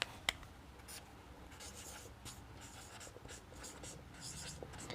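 Chalk or marker writes on a classroom board during a Hindi grammar lesson, with a run of quiet scratchy strokes and taps close by and no talking.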